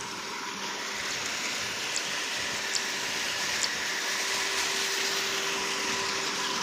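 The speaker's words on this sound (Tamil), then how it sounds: "இங்கே தண்ணி ஓடிட்டு இருக்குதுங்க" Continuous rushing water flows steadily through farmland near a well, a dense broadband wash with no pauses, joined by a few faint clicks.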